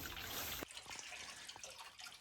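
Untreated well water running out for farm animals, a steady gush that stops abruptly, followed by scattered drips and trickles nearby.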